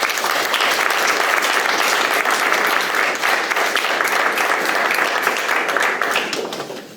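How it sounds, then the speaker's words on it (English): Meeting audience of real estate investors applauding, a dense steady clapping that carries on for several seconds before tapering at the end. "Give a round of applause"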